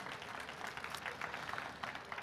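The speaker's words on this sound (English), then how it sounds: "Give the Lord a clap offering." Dense, steady clapping from a church congregation, moderately loud and continuous throughout, with no voices standing out.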